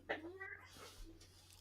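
A cat gives a quick meow followed by a short drawn-out mewing call, faint and close against a quiet background hum.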